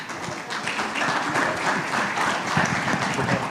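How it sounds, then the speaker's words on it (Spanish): Seminar audience at RENIEC's 2024 international seminar applauds a speaker's introduction, a dense, even roar of many hands clapping that carries steadily for several seconds without a break. "Fuerte aplauso para él."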